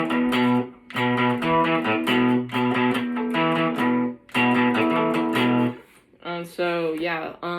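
Distorted electric guitar playing a one-finger power-chord riff, loud rhythmic strummed bursts with short pauses, ending with a few looser plucked notes.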